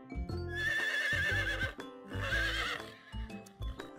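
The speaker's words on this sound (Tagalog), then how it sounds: "Aba, may kabayo sa zoo" Horse at a zoo neighing in two long, loud whinnies with a shorter call trailing after, close by and clear, with a faint clip-clop of hooves beneath.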